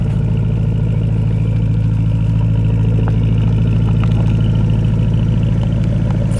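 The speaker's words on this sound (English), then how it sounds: "once you start to come on the second half of the car, you start to hear the exhaust like a crescendo" A Porsche Panamera Turbo S E-Hybrid Sport Turismo exhaust rumbles at a steady idle, a loud, close, continuous low drone with faint mechanical ticks and no pauses.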